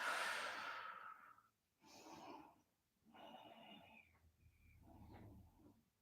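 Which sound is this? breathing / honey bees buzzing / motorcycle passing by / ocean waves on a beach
breathing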